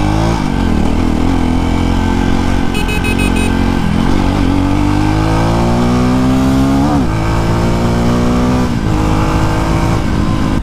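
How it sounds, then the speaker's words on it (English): A Jawa motorcycle (BS6) revs hard through its gears in an acceleration test, the engine note climbing, dropping at each shift and climbing again, loud and close throughout. "Let me do an acceleration test again."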